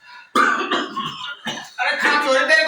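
Several sharp, harsh coughs in quick succession from a nearby person, loud and close, followed by more throaty coughing bursts, with bits of voice mixed in.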